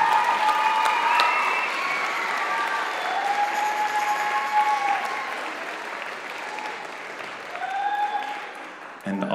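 Sustained applause from the audience at a middle school band concert, a thick continuous clapping texture with some cheering and crowd noise, tapering slightly toward the end.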